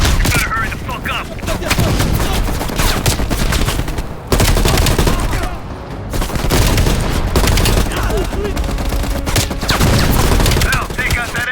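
Heavy machine gun fire on a ridge in the Call of Duty Black Ops Cold War video game rattles in dense, loud bursts. It pauses briefly a couple of times, with other gunfire mixed in.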